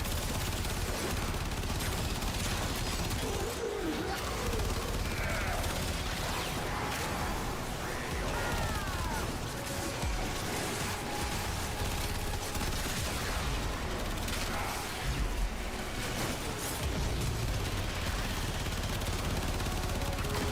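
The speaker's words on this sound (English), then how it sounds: "it's an assault rifle, man. With like almost 160 shots inside it." Sustained assault rifle fire from a Kuva weapon in the sci-fi shooter Warframe, dense continuous shooting with whooshes and effects layered on top, steady and loud throughout with no clear pauses.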